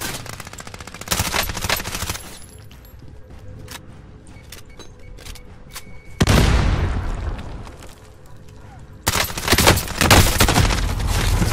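Gunfire in Call of Duty Warzone: loud bursts of rapid automatic fire with heavy booming hits, coming in three clusters separated by quieter stretches of scattered shots and game ambience.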